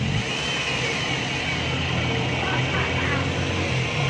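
A car engine running on CNG after a gas setting adjustment, settled into a steady idle with a continuous mid-range hum that holds close and even throughout.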